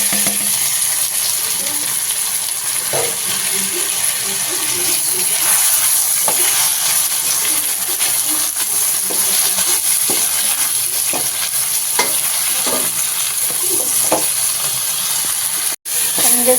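Chicken frying in hot oil for Tamil chicken kulambu gives a steady broadband sizzle throughout, with soft scraping stir strokes scattered over it and a brief dropout near the end.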